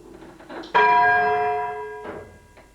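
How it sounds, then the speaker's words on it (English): A restored treble church bell rung in a tower strikes once loudly and close, its bright ringing tone sustaining and slowly decaying, with faint mechanical knocks around it. "So that was the first ring of the Longford bell."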